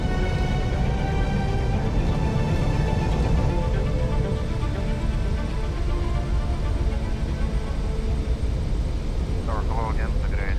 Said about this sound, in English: stop 66 tons of plane before the icy runway runs out